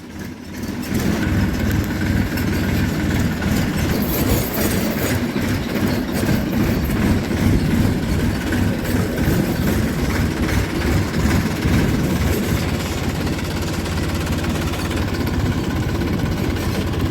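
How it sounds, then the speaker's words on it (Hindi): A Massey tractor engine runs steadily and loudly throughout, a continuous low rumble with a rattling, clattering texture and no speech, as it works through dry sugarcane leaves in a field. "इंजन बढ़िया है ट्रैक्टर का।"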